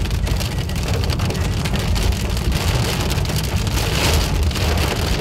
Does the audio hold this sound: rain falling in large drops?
yes